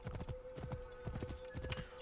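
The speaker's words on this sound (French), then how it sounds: "Je suis impressionné par ce cheval hein." Horse hooves clip-clopping in a video game, with a brisk, regular run of close hoof strikes and an occasional faint neigh, heard alone with no talk.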